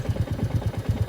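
A Royal Enfield Meteor 350cc single-cylinder motorcycle engine running at a low steady beat, close and fairly loud, with even regular pulses and no talk.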